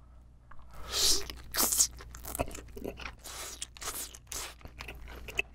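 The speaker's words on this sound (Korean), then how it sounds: "오징어 다리 간장 찍어 먹으면 맛있을 것 같아요." Squid legs dipped in soy sauce being chewed during a spicy seafood soup meal; loud, close crunching and wet chewing come in repeated bursts, with no talking.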